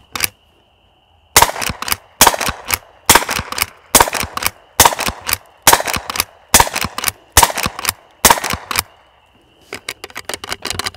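A Henry H001 .22 rifle fires shorts, longs and shotshells outdoors: about nine sharp, loud reports at a steady pace, each followed by the clatter of the action cycling, then a few faint mechanical clicks.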